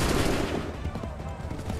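A volley of musket fire in Assassin's Creed III, a dense, rumbling crackle of many overlapping shots sustained throughout, loud and close, with faint voices underneath.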